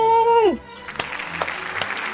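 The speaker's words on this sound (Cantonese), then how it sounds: "掌聲鼓勵我自己。" Single person clapping hands a few times, sparse sharp claps spaced about half a second apart, following a brief sung-out voice at a home kitchen celebration.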